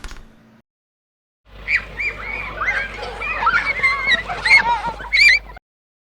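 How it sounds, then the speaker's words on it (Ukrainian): Children play on an outdoor playground, their high, excited voices and shrieks overlapping continuously at moderate distance for several seconds. "Це діти граються на дитячому майданчику"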